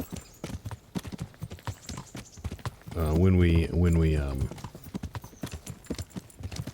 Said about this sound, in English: We couldn't actually hear the sounds of the horse, but now it seems like we can